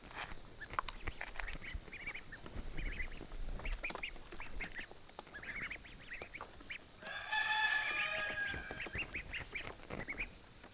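Peking ducklings quack and peep in a dense, steady chorus of short calls, with a louder burst of calling near the end.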